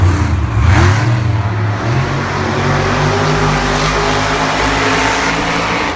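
Monster trucks Overboard and Black Pearl race in the Anaheim stadium at Monster Jam, their engines roaring loudly as they rev up and drive, with a broad crowd and arena wash behind them.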